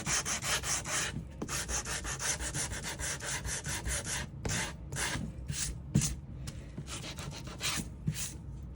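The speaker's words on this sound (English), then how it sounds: "this is 120 grit sandpaper. Just going to do a little bit of sanding" 120-grit sandpaper rubs rhythmically against wood edges in quick back-and-forth strokes, close and fairly quiet, with brief pauses between bursts.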